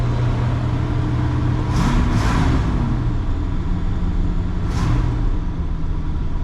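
A 1968 Chrysler Imperial's 440 engine runs with a deep, steady rumble close by, swelling in a few short revs before settling back.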